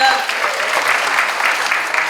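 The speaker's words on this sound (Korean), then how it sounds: "다시 한번 큰 박수 부탁드리겠습니다." Audience applause at a UN World Youth Day ceremony in Korea, a steady, loud wash of clapping lasting the whole moment, close and dense.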